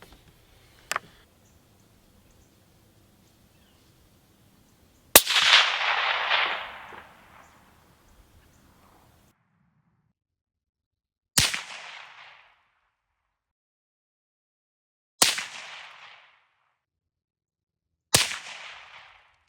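Four sharp suppressed rifle reports from a 6.5 PRC Browning X-Bolt Hell's Canyon McMillan fitted with a Dead Air Nomad LTI XC, each a loud crack trailing into a fading echo, spaced a few seconds apart after a faint click.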